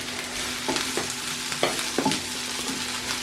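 Onions frying in a pan for a Lithuanian kugelis with pig ears, a steady soft sizzle broken by several scraping stirs of a utensil, close up with no talking.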